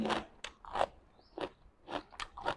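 Close crunching bites and chewing on boiled squid tentacles dipped in seafood sauce, several separate crisp bursts with brief pauses between them, no talking.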